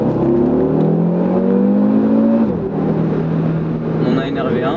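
A 2019 Audi RS3 with 400 horsepower pulls hard under acceleration, its engine tone rising steadily and then dropping at a shift, heard from inside the cabin with a continuous loud drone throughout.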